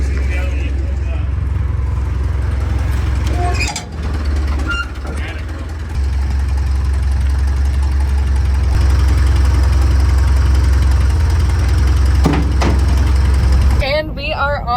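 A tractor engine runs on the way to the field, a loud, steady low rumble with a brief dip, while a person talks over it.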